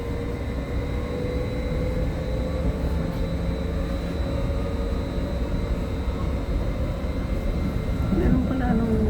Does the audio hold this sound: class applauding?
no